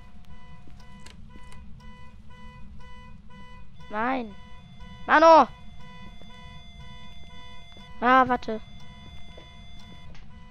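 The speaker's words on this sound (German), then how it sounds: "Ah, ich hasse diesen Alarm." An in-game alarm in the ghost-hunting video game Phasmophobia, set in a house, holds a steady electronic tone throughout while voices speak briefly over it.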